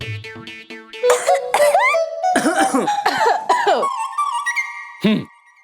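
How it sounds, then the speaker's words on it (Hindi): A deliberate cough given as a signal in a family household scene, sounding as a few sharp coughs mixed with voiced, moaning tones across a busy stretch, then one final loud cough near the end, close and clear. "वो खांसना हमारे लिए इशारा होगा।"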